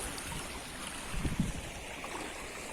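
Floodwater rushing through a swollen river and streams after heavy monsoon rain in Porbandar district, a steady broadband roar of flowing water with a few louder surges near the middle, no voices.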